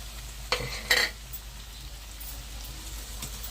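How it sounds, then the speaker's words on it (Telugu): Sliced bitter gourd with green chillies, salt and turmeric stirred in a hot pan, a low continuous frying sizzle broken by two sharp scraping clinks of the spoon near the start. "ఇప్పుడైతే ఉప్పు, పసుపు అయితే వేసుకొని మంచిగా వేగనిద్దాము."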